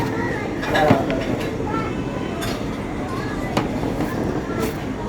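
A moving train heard from on top of a carriage, with a continuous rumbling roll, faint metallic clinks and a few brief louder knocks; a voice talks over the steady noise.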